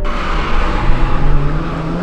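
A rally car at a vintage auto and moto show, its engine droning steadily up close while the tires skid and squeal in a continuous loud wash, with no voices.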